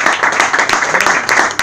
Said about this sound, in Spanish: Bueno, un aplauso al Señor.